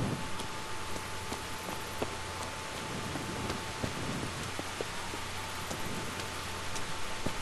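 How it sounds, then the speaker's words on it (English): Steady rain pours down throughout a night scene in the medieval role-playing game Kingdom Come: Deliverance, with a continuous hiss and scattered drops tapping on surfaces, and a faint distant rumble. "Out in the rain."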